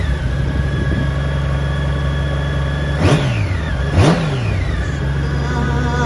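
2003 Honda Goldwing GL1800 touring motorcycle with a Lehman Monarch trike kit, 37,000 miles, running at a steady, smooth idle nearby, with two brief throttle blips that rise and fall in pitch.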